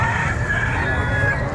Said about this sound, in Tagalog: Hen, boss, hen.